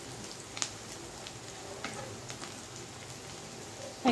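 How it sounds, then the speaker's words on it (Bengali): Spice paste frying in a pan: a faint, steady sizzle and crackle continues throughout, with a few soft clicks. "পেস্টটা আমার মোটামুটি ভাজা ভাজা হয়ে গেছে, আর একটু ভাজতে হবে।"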